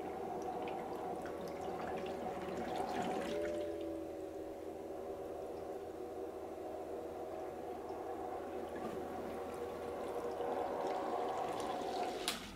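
Water and coolant pour steadily into a car radiator during a coolant change, making a continuous trickling, dribbling sound, close and fairly quiet, with no talking.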